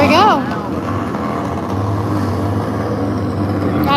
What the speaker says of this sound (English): Got a nice little burnout going.